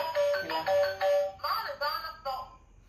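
A children's toy plays a bright electronic phone ringtone melody in quick repeated beeping notes, close and clear, fading out toward the end.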